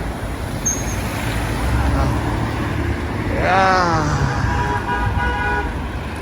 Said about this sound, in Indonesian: Aduh, ya lah, sialan, mobil pada belok begini